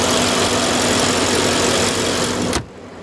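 The 4.8-litre twin-turbo 500-horsepower engine of a 2012 Porsche Panamera Turbo idles with a steady, dense rumble up close, then cuts off abruptly near the end, leaving quiet.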